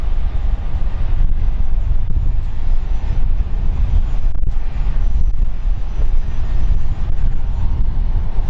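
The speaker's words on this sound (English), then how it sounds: "Right, first private jet of the day." A deep, rumbling private jet roar fills the clip at London City Airport, steady and loud, passing overhead, with a windy low-end wash and no speech.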